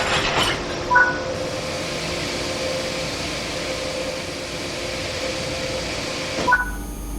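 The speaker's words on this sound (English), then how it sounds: "Now couple the locomotive to the freight." A BR 185.2 electric locomotive couples to freight cars in Train Sim World 3, heard as a steady rail rumble with a short metallic clank near the start and another near the end.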